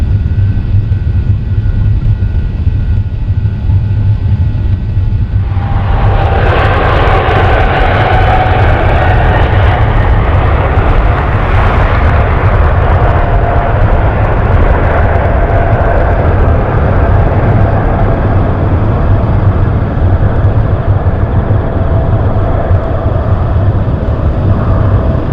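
An airplane taxiing and taking off: a steady low engine rumble that swells sharply into a loud, broad roar partway through and holds there, alone with no talk.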